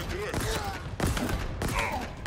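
Rapid bursts of gunfire from the video game Halo Infinite crackle in quick succession, loud and close, with a voice speaking over the shots.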